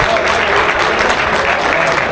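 Loud, dense applause from an audience at a bass fishing tournament awards ceremony as first-place winners lift their prize, steady clapping filling the whole moment with a faint murmur of crowd underneath.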